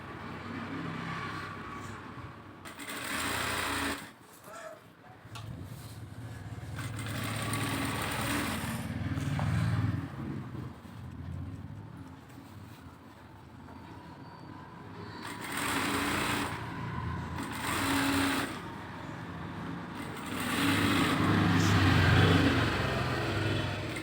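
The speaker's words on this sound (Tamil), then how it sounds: "இப்போ தையல் போடுறோம்" A sewing machine stitches a lined blouse, running in bursts of steady mechanical whirring that start and stop across the stretch, fairly close and alone without talk.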